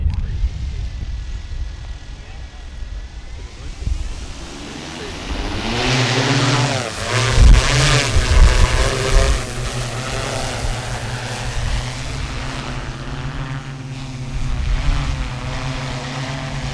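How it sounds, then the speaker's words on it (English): An agricultural spraying drone flies a repeating A-B route over blackberry control work, its propeller whine rising and falling steadily as it passes nearby and moves away. "let the drone repeat itself until I call it back"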